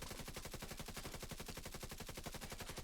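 Rapid automatic gunfire from a weapon in the video game The Division 2, a fast, evenly spaced stream of loud, sharp shots that continues without a break for the whole stretch.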